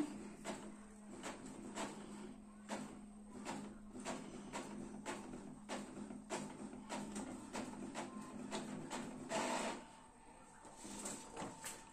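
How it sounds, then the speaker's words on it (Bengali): A color printer pulls in a sheet of paper and prints a page, giving a steady low mechanical whir broken by repeated short clicks and shuttling strokes throughout, with a brief louder burst near the end. "কালার প্রিন্ট করে দেখব যে প্রিন্ট কোয়ালিটি কেমন আসছে। পেপার টেনে নিয়েছে, এবার আসছে।"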